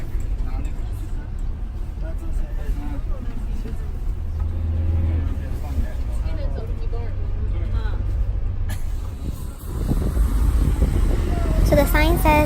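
Car rolling along a road toward Mount Everest National Park in Tibet, a steady low engine and road drone heard from inside the vehicle, with a person talking over it and a louder, rougher rumble near the end.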